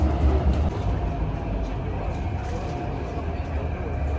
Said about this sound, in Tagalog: Guys, ang tren.